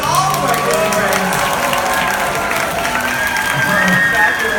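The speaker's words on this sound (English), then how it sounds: "Give Mickey a big round of applause and all of our good friends." An audience applauds Mickey Mouse at the farewell show aboard the Disney Magic cruise ship, a dense, continuous clapping from a crowd that stays loud throughout, with a voice and music sounding over it.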